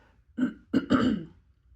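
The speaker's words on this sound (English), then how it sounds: "Excuse me, I need to clear my throat." Someone clears their throat in two or three quick, rough bursts, close and fairly quiet.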